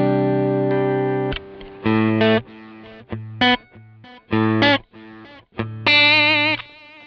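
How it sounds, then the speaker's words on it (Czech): Guitar played through the lo-fi echo setting of a TC Electronic Flashback delay pedal: distorted, harmonically rich chords and notes in short bursts, each trailing off in a dull, degraded repeat, loud and close with no talk. "simulace vlastně lo-fi echa, což je takový echo, řekněme, nízký kvality"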